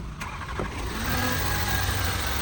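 An Audi A3 engine idles cold at fast idle after repair, giving a steady mid-pitched hum with a brief start-up burst near the beginning, close by, with no talking.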